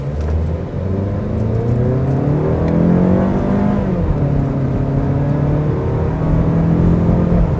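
A 2024 Mazda3 2.5 S sedan accelerating hard from a standstill, heard from inside as a loud, rising engine drone that climbs through the gears with brief dips at each shift, steady and alone without speech.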